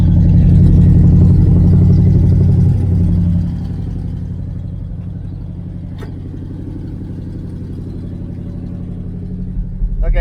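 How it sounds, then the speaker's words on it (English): A 1976 El Camino fitted with new headers, cutouts and a glass pack exhaust rumbles close by, louder for the first three seconds and then settling to a steady deep idle with light clatter. "That's just the glass packs."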